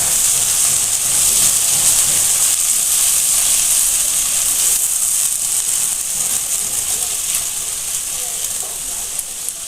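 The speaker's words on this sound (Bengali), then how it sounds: "জলটা ফুটে উঠেছে" Water rolling at a boil in a cooking pot on the stove, ready for fish in a mustard-and-poppy-seed curry: a steady, loud broadband hiss and bubbling that holds evenly throughout, fading slightly toward the end, with no talking.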